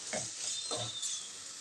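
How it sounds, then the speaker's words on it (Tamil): Spinach greens with tomato and pepper hiss and sizzle as they are sautéed in a pan, a bright steady crackle with a couple of soft stirring scrapes, close up and without speech. "மிளகு தக்காளி கீரை, அது போட்டு ஒரு 5 நிமிஷம் வதக்கி விட்டுக்கலாங்க"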